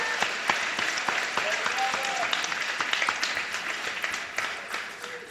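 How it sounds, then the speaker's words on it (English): Audience applause at a political assembly on challenging white supremacy, with many sharp claps rising out of a steady, fairly loud wash of clapping that tapers slightly toward the end. "Let's give him a round of applause, please."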